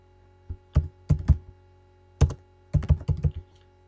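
Typing on a computer keyboard: several quick bursts of clicking keystrokes with short pauses between, close and clear, no voices.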